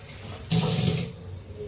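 Water is poured into a pot of curd while making homemade ghee: a short splashing gush of about half a second, close and fairly loud, then quiet background.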